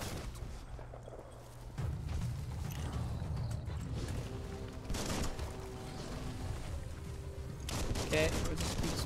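Gunfire in the video game Biomutant while the character spins and shoots, a clattering run of shots with mechanical noises over busy game sound, and a voice talking now and then.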